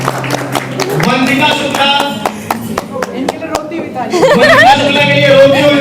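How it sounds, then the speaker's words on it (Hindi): An audience at a 2025 meetup claps in a string of sharp, scattered claps that run under steady talk and the voices of people in the room. "जोरदार तालियां।"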